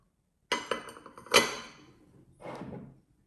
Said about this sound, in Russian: Чайная пара, чашка и блюдце и десертные тарелки.